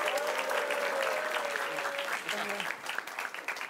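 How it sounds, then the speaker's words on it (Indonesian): Audience at a stand-up comedy show applauding, a dense wash of clapping that holds steady then thins slightly, with faint voices mixed in beneath. "tepuk tangan sekali lagi"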